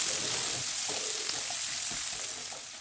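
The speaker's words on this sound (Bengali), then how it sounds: "তারপর এখানে যোগ করে দিলাম কুচনো পেঁয়াজগুলোকেও হালকা লালচে করে ভেজে নেব" Chopped onions fry in oil in a pan, giving a steady, dense sizzle with faint stirring scrapes, close and even throughout, with no voices.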